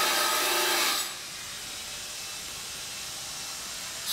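A man cuts things nearby outdoors with a harsh, rasping, saw-like noise. It runs for about a second, stops, and starts again at the very end, with steady ambient noise in between.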